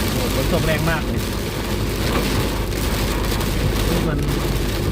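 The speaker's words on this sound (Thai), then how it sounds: "โอ้ฝนตกแรงมากเลย" Heavy rain pelts a moving car in a dense, steady hiss and patter that fills the cabin, loud and constant, with road rumble beneath and someone talking faintly over it.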